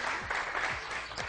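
Studio audience at a morning television show applauding, a short run of dense, even clapping with a few faint sweeping tones underneath.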